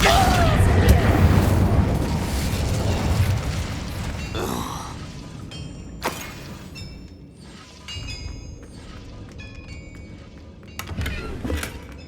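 A Confringo blasting spell in the Hogwarts Legacy video game sets off a loud, broad boom at the start, followed by rumbling debris and a few sharp crackling bursts later on, with a voice speaking.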